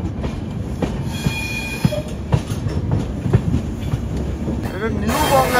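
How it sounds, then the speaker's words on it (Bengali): The Kamrup Express rolls along a snaking, curving track toward New Bongaigaon, a loud, steady rumble broken by sharp wheel clacks, with a rising metallic squeal at the end. "এটা কিন্তু আমাদেরই ট্রেন, কিরকম সাপের মতো এঁকে বেঁকে যাচ্ছে দেখো"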